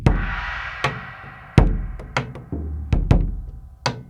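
A drum kit captured through an omnidirectional microphone blended in for a softer, pillowy kick attack; sparse kick and snare-like hits ring out with natural room decay, moderately loud and close, no voices.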